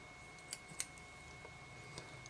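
Scissors snip tail material while a fly is being tied, giving two or three faint, crisp clicks over quiet background hiss.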